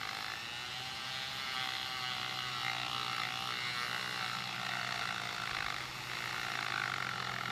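A steady high-pitched mechanical whir runs without a break from a sanding drum on a small rotary tool, holding a constant loud level with slight wobbles.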